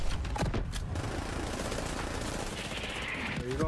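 Dense, continuous bombardment in Destiny 2 during the Paradise Lost incursion, with rapid overlapping blasts and gunfire filling every moment at a steady, loud level and barely a pause.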